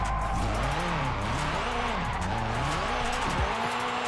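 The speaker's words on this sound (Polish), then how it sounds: "Ja tu normalnie mam gaz w podłogę wciśnięty i nic mi się nie dzieje." A car in Forza Horizon 5, driven with a steering wheel at full throttle: a loud, steady engine roar whose pitch wavers and swoops through gear changes and slides, with brief tyre squeal, cutting off near the end.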